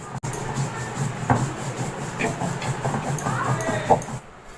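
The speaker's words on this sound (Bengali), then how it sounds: "আমি একটু করে পোস্ত আর দুটো করে কাঁচা লঙ্কা দিয়ে অল্প অল্প করে বেটে নেব" Poppy seeds and green chillies are ground with a little water, a close rubbing, gritty scrape in uneven strokes that stops near the end.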